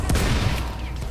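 A tank cannon in a small-tank video game fires shells, making a couple of quick, booming thuds in rapid succession followed by a short rumbling tail.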